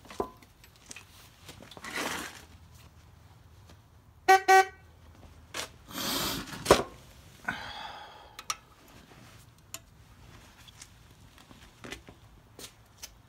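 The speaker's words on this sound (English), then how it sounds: "Horn works." Short beeps from the horn of a 1973 Honda CB500 motorcycle, heard as a few brief honks in a quiet setting, mixed with scattered clicks and handling noises.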